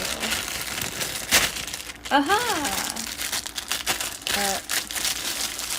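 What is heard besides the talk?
crinkling plastic bag being handled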